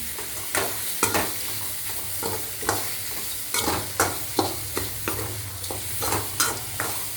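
Tomato chutney ingredients fry in oil, a close sizzling hiss broken by regular scraping knocks of a spoon stirring the pan every half second or so, with no talking.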